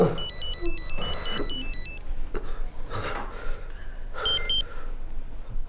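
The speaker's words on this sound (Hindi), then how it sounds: "तुम्हारे फोन की बेल बज रही है इतनी देर से।" A telephone rings in repeated electronic trilling bursts, with faint background noise between the rings.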